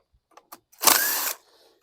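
A power drill briefly spins out a sheet metal screw from a 2016 Yard Machines lawn mower, a single half-second whirr following a few small clicks, close and clear.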